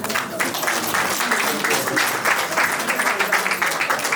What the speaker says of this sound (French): on va acclamer pour Esther.